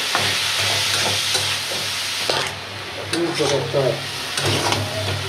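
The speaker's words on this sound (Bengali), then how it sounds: "ভাজিটা সুন্দর করে নাড়াচাড়া দিয়ে নেই" Stirring of a bean and potato fry in a pan, a steady sizzle with repeated scraping strokes of the spatula, loud and close, with no voice over it.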